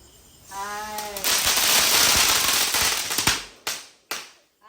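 Firecrackers set off for a Vishu celebration in Kerala burst into a long, dense crackling roar, followed by two or three sharp separate bangs that fade out, loud and close.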